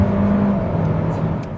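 A 2020 Hyundai Sonata's 1.6-liter turbocharged gasoline engine holds a steady, loud, close whirring hum that eases slightly toward the end, with no voices.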